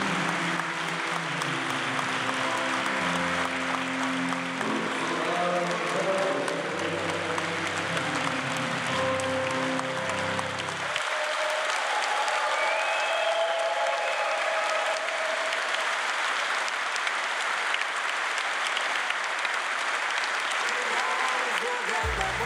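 A large audience keeps up long, sustained applause, at first under a musical backing with low tones that ends partway through, then continuing as dense, even clapping on its own.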